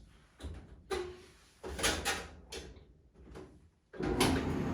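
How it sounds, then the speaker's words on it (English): Several separate clunks and clicks as the door switch of a Kenmore Series 70 clothes dryer is pushed and the machine is worked with its door open, close by, with short quiet gaps between the knocks. "if I push this door switch, I should be able to start it with the door open"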